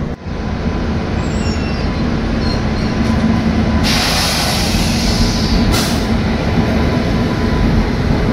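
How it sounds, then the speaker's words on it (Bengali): The Dhauli SF Express pulls away from Khurda Road station with a loud, steady rumble of wheels and carriages close by. Brief bursts of brighter hiss and squeal rise twice over the continuous roar. "10 মিনিট দাঁড়ানোর পর খুর্দা রোড থেকে আমরা ট্রেন ছেড়ে বেরোচ্ছি।"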